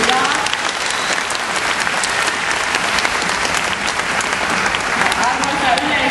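Spectators at a dolphin show at Särkänniemi applaud in a loud, continuous wash of clapping mixed with crowd noise and voices throughout.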